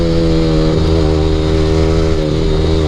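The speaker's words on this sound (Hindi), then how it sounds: "वो तो फुल थ्रॉटल खींच रहा है भाई साहब" A Yamaha R15 motorcycle fitted with an Akrapovic exhaust holds a loud, close, sustained full-throttle engine roar with a steady harmonic drone and a slight rise in pitch.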